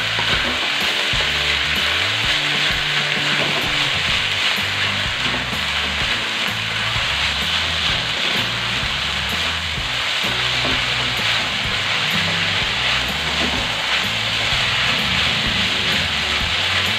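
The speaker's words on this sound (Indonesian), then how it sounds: "Aduk lagi sampai rata dan masak aja terus sampai matang ya." Nasi goreng mawut stir-fried with sweet soy sauce sizzles loudly and steadily in a hot pan, with scraping and clattering of a spatula stirring the rice throughout, alone without talk.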